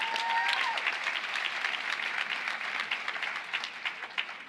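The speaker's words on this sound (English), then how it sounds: "Give yourselves a round of applause." At a Bloomfield College commencement ceremony, the graduation audience breaks into dense, sustained applause that fills the hall evenly from start to finish.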